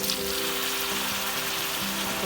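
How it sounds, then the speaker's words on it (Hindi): Eggplant pieces frying in hot oil in a pan, a steady close sizzle with faint stirring, no voices. "अब हम डालेंगे जी इस ऑयल में बैंगन। बैंगनों को हमने पहले करना है फ्राई।"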